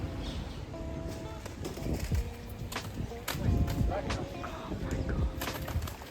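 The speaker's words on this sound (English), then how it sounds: "These birds are in a fight." Pigeons scuffle in the Luxembourg Gardens in Paris, with a burst of flapping wings and faint coos amid outdoor ambience, while a person speaks briefly over it.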